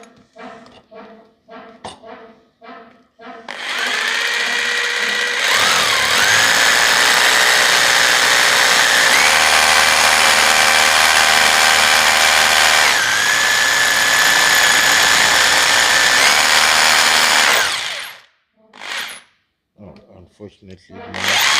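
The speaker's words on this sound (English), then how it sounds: "Now I'm just gonna drill next to it." A power drill runs loudly and steadily for about twelve seconds, drilling next to a wall, close by, with brief bursts of voice before and after.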